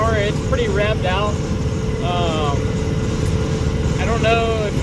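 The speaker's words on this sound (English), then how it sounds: "we're going about 65 or 70 right now, and it's pretty wrapped out in the RPM" A 12v Cummins-swapped C30 truck cruising at highway speed around 65 to 70 mph, its engine droning steadily at high RPM beneath someone talking throughout.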